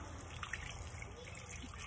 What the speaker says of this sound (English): I'm gonna add my 2 cups of water